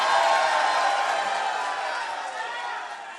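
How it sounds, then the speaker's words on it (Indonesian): An audience at a public debate between Aceh gubernatorial candidates cheers and applauds, a broad crowd roar that starts full and slowly tapers off. "Silakan berikan tepuk tangan yang meriah."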